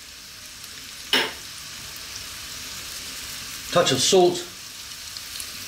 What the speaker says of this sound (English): Let's just throw this around, saute this for about 3 minutes.